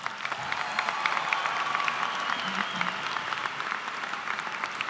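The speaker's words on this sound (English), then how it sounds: "Class of 2026, please join me and give your families a well-deserved round of applause." A high school commencement audience applauds graduates' families, a continuous, moderately loud spread of many hands clapping with light cheering, staying even from start to finish.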